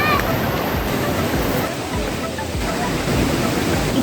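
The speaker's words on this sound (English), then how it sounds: "It is the highest waterfall in Jharkhand and the 21st highest waterfall in India." Lodh Falls on the Barha River near Netarhat, Jharkhand, running with lower winter flow, makes a steady, loud rush of falling water that fills the scene without a break.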